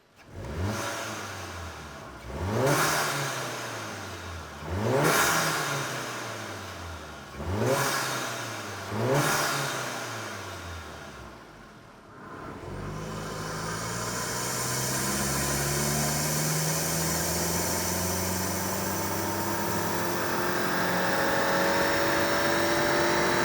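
A VW Golf GTI MK7 with a GruppeM carbon ram air intake revs on a dyno, four sharp rising-and-falling blips followed by a long sustained pull that climbs steadily in pitch, loud and close.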